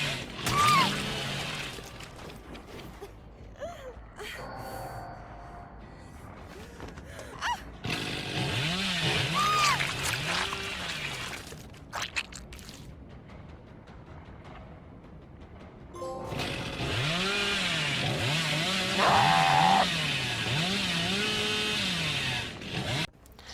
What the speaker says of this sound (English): hit your chainsaw ability on survivors 50 times